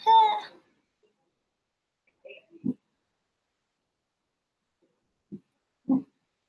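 A few short, sharp dog barks spaced apart, with quiet gaps between them, after a brief higher-pitched vocal burst at the start.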